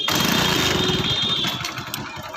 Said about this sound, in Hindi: ये स्टार्ट कर रहे हैं अपनी बाइक